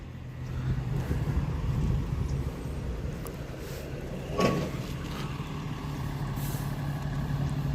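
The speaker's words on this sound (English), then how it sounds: "Here comes the tow truck." A tow truck arrives at a traffic collision scene, its engine a low steady rumble with a brief louder burst midway, moderately distant amid outdoor street background.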